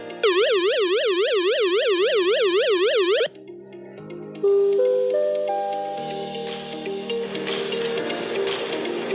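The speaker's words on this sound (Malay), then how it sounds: "Kedua, bunyi siren bahaya." A loud electronic flood danger siren, signalling river water above the danger level, wails in rapid rising-and-falling sweeps for about three seconds, then gives way to a sustained multi-tone alarm with a spoken announcement.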